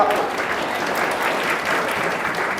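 Students in a classroom lecture clap together, a dense, steady patter of many hands at moderate loudness, with no voices over it.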